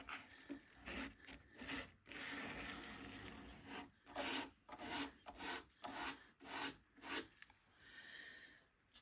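Raised wooden edges of a primitive sofa table are distressed by hand with rhythmic rasping, rubbing strokes in quick bursts and pauses, close and fairly quiet, with no voices.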